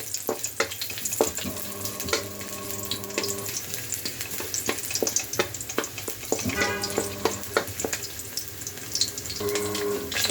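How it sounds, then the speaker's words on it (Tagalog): Garlic fries in oil in a pan for a budget sardine kare-kare, a close, continuous sizzle broken by frequent sharp clicks and scrapes of a utensil, with a few brief tonal clinks. "Yan, lagay na natin yung ating bawang."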